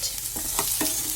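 Curd curry with vegetables is stirred in a pan, a soft sizzling hiss with a few scraping strokes of the spoon, close and fairly quiet, with no talking.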